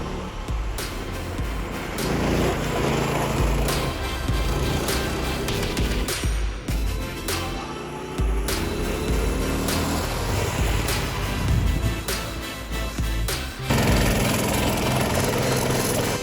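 A go-kart engine rumbles and buzzes steadily nearby in a neighborhood, rising and falling in pitch as it revs, with no talking.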